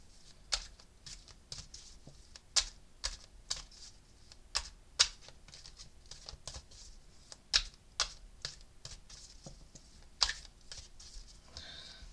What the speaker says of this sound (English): let me give it another shuffle